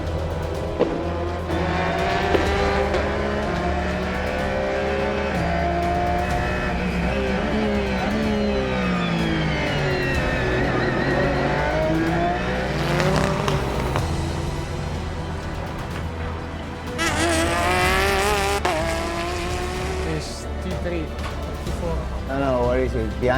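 LMGTE race cars run in European Le Mans Series qualifying practice at Portimão. Engines rise and fall in pitch as cars accelerate and pass, continuous and loud, with people talking throughout.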